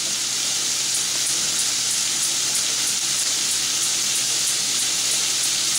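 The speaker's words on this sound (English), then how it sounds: "You can hear that searing now, that meat, which is great." Lamb meat sears in a hot pan, giving a constant loud sizzle and hiss that fills the whole moment without any voice.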